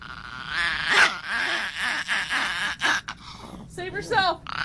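A small dog yips and barks in short bursts mixed with whiny, growling sounds, close and fairly loud, with pauses between outbursts.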